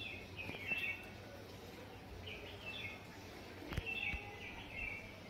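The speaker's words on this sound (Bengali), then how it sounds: "সকালবেলা ঘুম থেকে উঠে এত সুন্দর একটা পাখির আওয়াজ, মন ভরে যাচ্ছে।" Morning birds call from some distance in repeated short bursts of chirps spread across several seconds, faint over a steady low hum with an occasional soft click.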